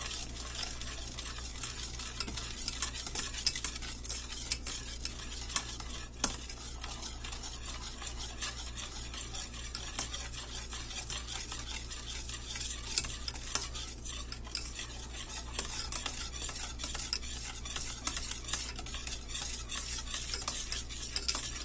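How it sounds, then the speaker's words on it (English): A spoon stirs cinnamon into homemade eggnog with a steady run of close, rhythmic scraping and clinking against the bowl, continuous and alone for the whole stretch. "one tablespoon of cinnamon, and we're going to stir that in"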